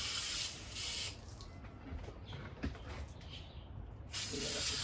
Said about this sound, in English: And we're gonna fill it up with water.